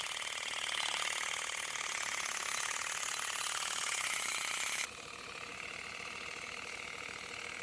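Pneumatic shaker on a tractor-powered air line vibrating olive tree branches during harvest, a dense steady mechanical buzz and rattle that drops abruptly to a quieter hum partway through, fairly faint and without voices.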